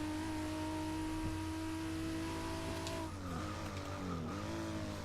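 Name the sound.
Supra race car engine in fifth gear, Forza Motorsport 6 video game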